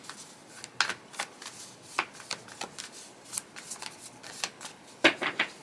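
Tarot cards being shuffled and slid across one another, giving a quick run of crisp, papery riffles and soft slaps at an uneven rhythm, close and fairly quiet, with no talking.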